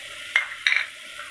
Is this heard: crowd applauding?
no